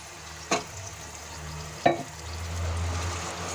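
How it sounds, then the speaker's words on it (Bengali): Fried spices sizzle softly in a pan with tomato paste while making shahi paneer, broken by two sharp scraping stirs about a second apart; close, with no talking. "মশলাগুলো ভেজে নেওয়ার পর আমি এখন এর মধ্যে দিয়ে দিচ্ছি টমেটো পেস্ট"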